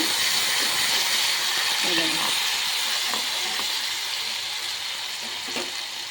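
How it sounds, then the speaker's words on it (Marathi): Garlic and coriander sauté in hot oil in a pan, giving off a steady, fairly loud sizzling hiss that fades slightly over time, with faint voices in the background. "लसूण आणि आपलं कोथंबीर चांगलं परतून द्यायचं बघा"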